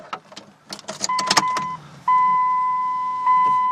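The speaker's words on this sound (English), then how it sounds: "As I'm going to turn the key on here in a second." Turning the key on in a Dodge Cummins diesel truck brings a few quick clicks and rattles, then a steady electronic chime tone that holds clearly to the end, with no engine running.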